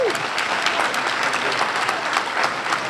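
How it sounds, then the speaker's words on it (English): A crowd at a Harvard-Kent Leadership Scholarship event applauds the mayor, a steady, dense wash of clapping that holds at an even level for the whole stretch with no talk over it. "Please give a round of applause to our mayor, Mr. Marty Walsh."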